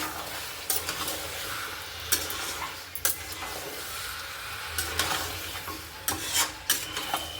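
Bengali-style meat curry being stirred in a pan, repeated scraping strokes of a spoon over a low sizzle, clustering in bursts toward the end, no talking.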